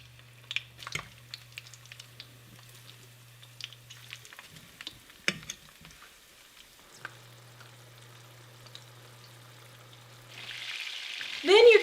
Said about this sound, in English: To fry them in oil, put a small amount of oil in your pan.